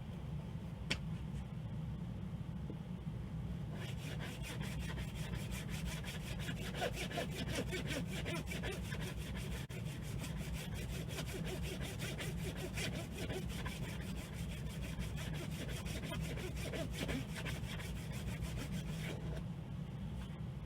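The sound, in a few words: sawing fret slots in a clamped wooden guitar fingerboard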